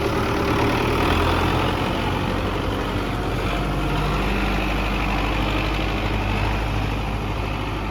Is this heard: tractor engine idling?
yes